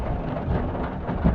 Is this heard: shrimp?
no